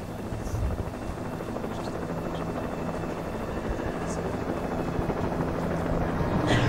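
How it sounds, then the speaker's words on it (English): A helicopter in the video game Alan Wake thrums steadily overhead, a constant rotor buzz that swells slightly louder toward the end, with faint game sounds around it. "Helicopter."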